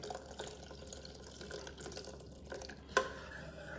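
Starch solution is poured into a pot of egg drop soup made with ramen noodles, giving a soft, quiet stream of liquid with small splashes and a brief clink near the end.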